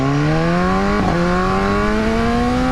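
A 2015 BMW S1000R motorcycle engine revs up steadily and loudly, pitch climbing through the gears with one brief dip at a shift before rising again, sustained and close without talk.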